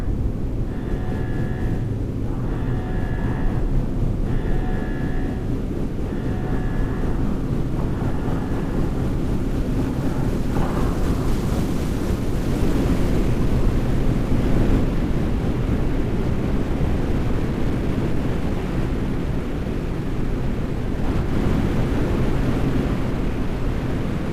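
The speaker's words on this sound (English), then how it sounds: "Rocket boosters ignition start. Engines ready in 5, 4, 3, 2, start, 1. We have liftoff!" A rocket lifts off in the video game Deliver Us The Moon, with a broad, continuous roaring rumble that builds and holds for over twenty seconds, preceded by a series of short repeated beeping tones.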